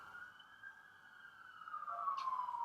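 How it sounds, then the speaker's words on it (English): A distant ambulance siren wails in a long falling tone, faint at first and growing louder as it approaches. "I don't know if you guys can hear the sirens, but they're looking for me. It's an ambulance"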